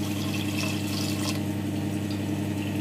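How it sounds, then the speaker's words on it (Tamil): Water runs steadily into a cooking pot for jeera rice, a continuous close rushing sound over a low steady hum, with no talk. "இப்போ நம்ம தண்ணி விட்டுருவோம்."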